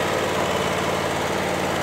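Close, loud lawn mower engine drones steadily while cutting thick, wet grass over a septic tank area, a constant rough hum with no pauses or speech.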